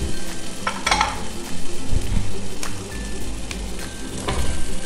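Onion, carrot, courgette, pepper and tomato frying in a pan for a lentil stew with turkey, a steady broadband sizzle with a few sharp scrapes and clinks of stirring, close and fairly loud.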